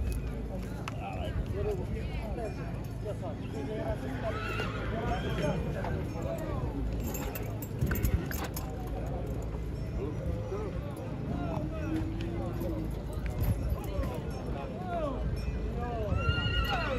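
Draft horses neigh and whinny repeatedly at a busy horse market in Sighetu Marmației, with hooves clopping and people talking throughout.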